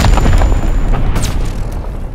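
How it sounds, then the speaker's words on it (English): A Fritz X bomb detonating in Call of Duty WW2, a loud, deep, continuous booming rumble that fills the whole moment with no talk over it. "Dropping Fritz X-bomb."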